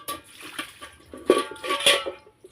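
Metal milk can being washed with water, hollow clanks and knocks of the can against a hard surface mixed with splashing and sloshing, close and uneven over a couple of seconds.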